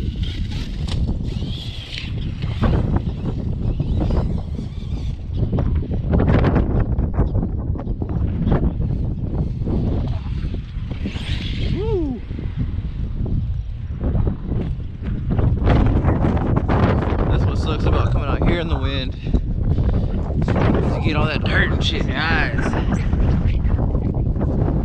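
Strong wind buffeting the microphone outdoors during off-road RC car driving, a loud constant roar with gusts, and someone speaking under it at times.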